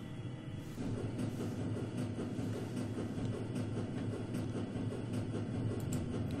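A train in the video game Shadowrun: Dragonfall rumbles along with a steady low mechanical drone and clatter, continuous and even after a brief quieter start, with no talking.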